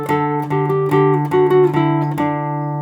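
Electric guitar plays the closing phrase of a solo, a short run of about six picked notes descending to a ringing final note that fades, close and clear.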